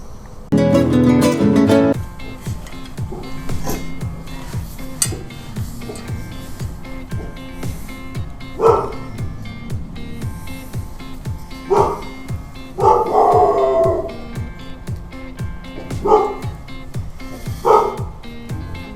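Dogs bark repeatedly in short bursts, spaced irregularly, with a loud cluster of barks at the start and more scattered barking and yips over a busy background.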